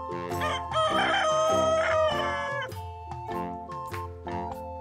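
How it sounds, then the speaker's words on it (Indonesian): A rooster in Jurassic World Evolution 2 crows loudly with several drawn-out, harmonic calls in quick succession, alone and close. "Ayam jantan bisa berkokok."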